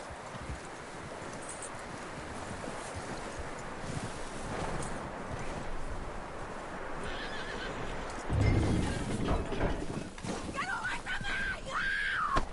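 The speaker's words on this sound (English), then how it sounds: "That looks like a decent horse." A horse in the Red Dead Redemption 2 video game neighs loudly near the end, over steady clip-clop of hooves and outdoor rustle, with game character voices talking across the scene.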